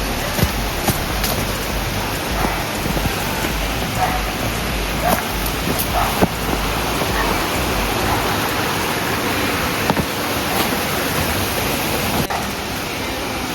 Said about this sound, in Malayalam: ഒരു കാടിന്റെ നടക്ക് ഒരു വാട്ടർഫോൾ, ബ്യൂട്ടിഫുൾ ആണ്